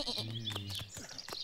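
Cartoon sheep bleating in the puzzle video game Home Sheep Home Farmageddon, a short quavering bleat followed by softer game sounds, close and moderately quiet.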